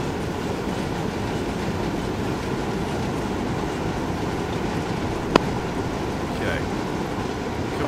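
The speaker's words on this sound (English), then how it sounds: "Train." A train rolling past in the open-world shooter Ghost Recon Wildlands, a loud continuous rumbling roar that holds steady throughout, with one sharp click partway through.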